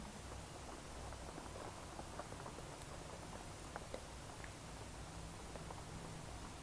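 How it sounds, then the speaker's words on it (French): Heavy spring rain pours steadily outside, a dense continuous hiss with scattered louder drops and patter on surfaces, constant and fairly near, with no voices. "Il pleut à verse dehors."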